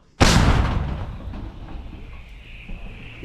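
A single artillery gun shot fired near Pokrovsk bursts out loud and sudden, then its boom rolls away into a long, fading rumble.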